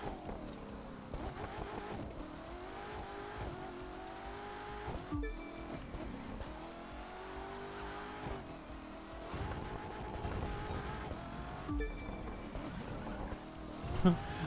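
A hypercar races through curves in The Crew 2 video game, its engine droning steadily with rising and falling pitch and some tyre noise, under continuous commentary throughout.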